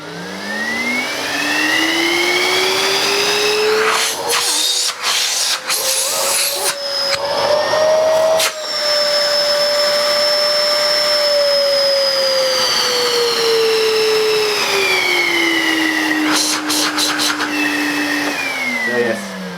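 A Hoover Sensory Dustmanager bagless cylinder vacuum cleaner roaring loudly at full power, its motor whine rising and holding steady with a few brief bumps and rattles.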